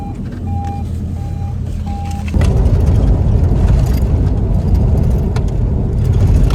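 A car's engine runs close and loud as it turns around on a road near a Ukrainian frontline community during a civilian evacuation. A few short, evenly spaced beeps sound early, then the engine noise swells and holds steady.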